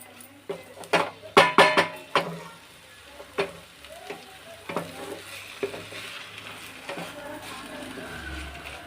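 Drumstick leaves fry in hot tempering oil, a spoon stirring and scraping the pan in a burst of loud clatters early on, then a softer steady sizzle with occasional taps.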